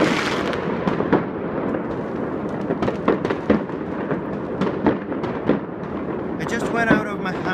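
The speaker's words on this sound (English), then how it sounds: "This is beautiful everywhere! Fireworks!" Fireworks bursting all around outside a house, a steady crackling roar with repeated sharp pops and bangs, fairly close, with excited voices talking over it.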